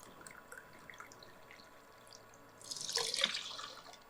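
Water is poured into a pot of seeraga samba rice and lentils for cooking, a brief splashing pour of about a second after a quiet stretch.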